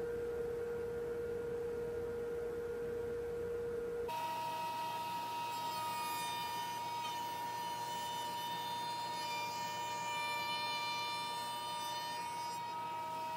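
A Kreg benchtop router table fitted with a dust shroud cuts a hefty rabbet in wood: a loud, steady high whine with a harsh, continuous cutting roar that shifts in tone about a third of the way through, with no talk.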